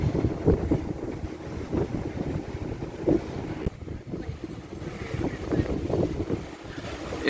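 A replica of the Santa Maria sailing ship under sail, with steady wind buffeting the microphone and the soft wash of water along the hull, continuous and moderately loud, with no talk.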